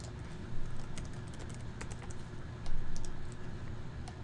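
Rapid typing on a computer keyboard while renaming a file, with crisp key clicks in irregular bursts, close and moderately loud over a low background hum.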